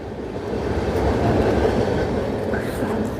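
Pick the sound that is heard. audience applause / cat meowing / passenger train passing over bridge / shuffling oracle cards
passenger train passing over bridge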